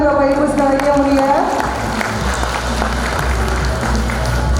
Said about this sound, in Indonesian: Boleh berikan tepuk tangan Bapak Ibu sekalian yang mulia.